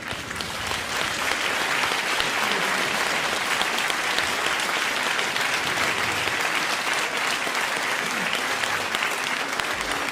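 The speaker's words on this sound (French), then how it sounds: "Vous me referiez pas une salve d'applaudissements là, juste pour le plaisir?" An audience at a championship breed-show prize ceremony gives a long, dense round of applause, loud and unbroken for the whole stretch with no gaps or voices on top.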